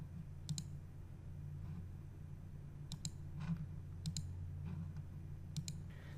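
A handful of sharp computer mouse clicks during a screencast of setting up a Sunny Island 12 on-grid system, spaced irregularly over a low steady hum with no talk.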